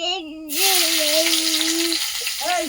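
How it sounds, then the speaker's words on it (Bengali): Ground onion and garlic paste hits hot oil in a home kitchen and sizzles loudly, a bright, hissing crackle that swells and carries on as a voice speaks over and around it. "তাই এইগুলো এবার একটু তেলে দিয়ে দেবো"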